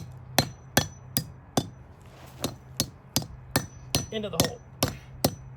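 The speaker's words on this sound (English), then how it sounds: "I use my claw hammer because I don't have a sledge handy. And I fold over all 6 of those tabs I just made" A claw hammer strikes to fold over metal tabs cut in a post, about a dozen sharp, ringing blows at a steady pace, close and loud, with a brief spoken remark partway through.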